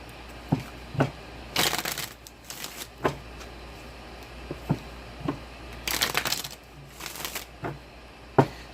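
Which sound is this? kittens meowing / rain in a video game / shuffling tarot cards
shuffling tarot cards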